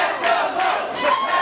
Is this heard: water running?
no